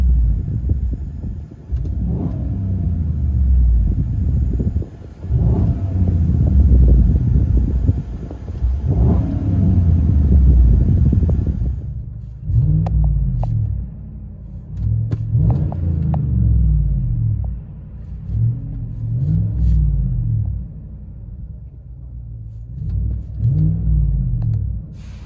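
A GMC Sierra 5.3L V8 fitted with Flowmaster Flow FX mufflers, heard from inside the cab: a deep, loud exhaust rumble rising and falling through several long revs, then a series of shorter rhythmic throttle blips.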